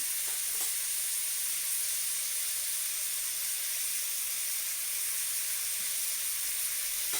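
Village-style mutton with salt sizzles in a pan as a dense, steady hiss that barely changes, close and fairly loud, with a faint stirring knock or two and no voices.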